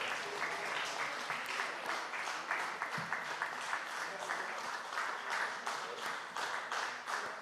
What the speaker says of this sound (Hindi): लगातार आप तालियों की गड़गड़ाहट के जरिए उनका अभिनंदन करें